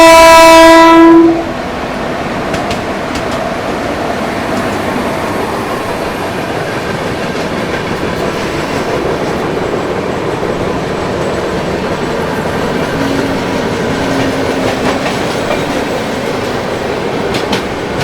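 The Ala Hazrat Express, a Kavach-fitted train, passes with a short loud horn blast at the start, then a long steady roar of wheels and carriages rolling by close at hand.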